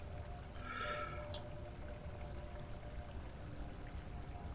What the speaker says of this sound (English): I'm drinking the water